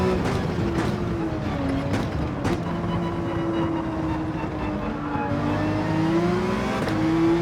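A Porsche 911 engine in the Gran Turismo racing game accelerates with a continuous loud drone that climbs slowly in pitch, steady and close throughout.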